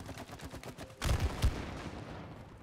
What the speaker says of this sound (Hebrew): פיצוץ אתה פוגע בו.